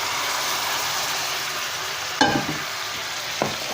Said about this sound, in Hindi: और अब हम इसमें डाल रहे हैं ये बीफ।